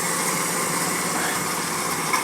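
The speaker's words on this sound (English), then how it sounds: "the tractor will shift up, power down, and drop down to 1800 RPMs" Tractor engine pulling a Kverneland 6000T Qualadisc, powering down to about 1800 RPM, a steady hum heard at close range throughout.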